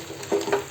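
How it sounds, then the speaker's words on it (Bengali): Chicken is stirred and sautéed in a pan for a spicy Bengali chicken kosha, giving a brief soft sizzle with a light scrape of stirring, close by. "এবার দেখো চিকেনটাকে ভালো করে কষাতে হবে"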